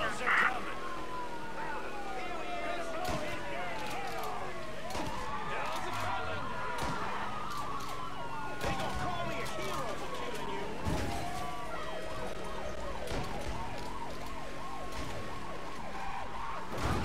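Police sirens wail and sweep continuously during a chase in Mafia 3, several overlapping and loud, with game music and engine noise underneath.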